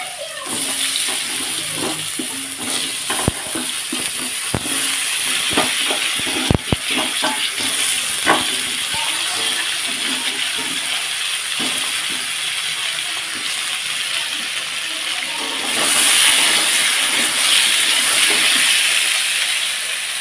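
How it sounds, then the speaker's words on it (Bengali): Potato pieces and drumstick stems frying in leftover fish oil, a loud, steady hiss of sizzling that continues throughout, with a few sharp clicks and scrapes. "সেই তেলের মধ্যেই আলু আর ডাঁটাটাকে একটু ভেজে নেব"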